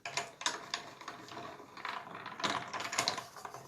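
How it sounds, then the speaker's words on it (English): A stamp, die cutting and embossing machine being cranked by hand, giving a quiet run of ratcheting clicks and gear ticks in an uneven rhythm, growing denser and a little louder toward the end. "I'm going to bring in my stamp and cut and emboss machine here."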